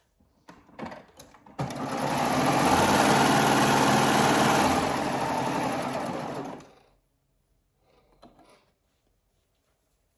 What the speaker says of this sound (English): you'll just lift up your presser foot and serge off to the back